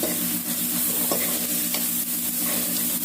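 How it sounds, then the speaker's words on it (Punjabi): Loud, steady sizzle of spices frying in hot oil, a constant hiss close up with faint clicks of stirring. "ਇਹ ਲੋ ਜੀ ਹੁਣ ਤੜਕਾ ਲਾ ਦਾਂ"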